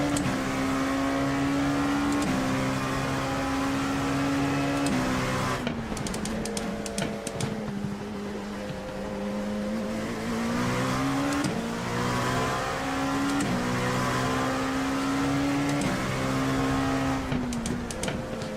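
Race car engine in an IMSA racing video game at Sebring, a steady high-pitched drone that rises and falls through repeated upshifts and downshifts, loud and continuous throughout.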